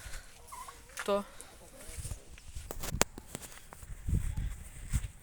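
A turkey gobbles once in a short rattling burst near the start of a farmyard scene, followed by scattered knocks and footsteps on the ground, with someone talking in the background.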